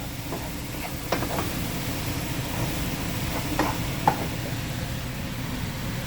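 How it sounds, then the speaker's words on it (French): A mixture is stirred in a cooking pot, soft scraping strokes repeating over a steady hiss of sizzling heat, close and fairly quiet with no talking. "Fait que tu prends le temps de mélanger ça comme il faut."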